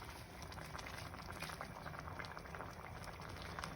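Pilau rice broth with onions bubbles steadily in a pot, a soft, close, continuous simmer of popping bubbles with no talking.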